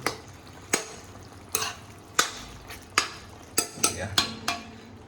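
Pork and potato curry with sesame being stirred in a pot: a spoon scrapes and clinks against the pot in repeated strokes roughly every second, over a low simmering sizzle, close and fairly quiet.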